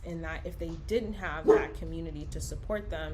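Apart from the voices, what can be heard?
dog barking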